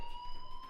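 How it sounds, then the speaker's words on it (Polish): Fire alarm inside a school in the video game Life is Strange, a steady electronic tone with stacked high pitches ringing continuously and fairly faint, with no voices over it. "Hey, do you hear that fire alarm?"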